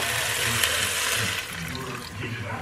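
Water poured into a Ninja Foodi pot for citrus shrimp fried rice, a loud continuous splashing rush that eases slightly partway through, close to the microphone.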